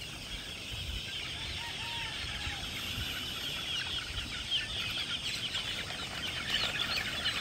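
Young chicks eating on a farm, soft pecking and faint clucks over a steady hiss of background noise, continuous and fairly quiet.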